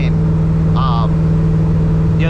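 An Oldsmobile with a swapped LS7 V8 pulls hard, its engine a loud, constant low drone heard from inside the car, with someone speaking briefly over it.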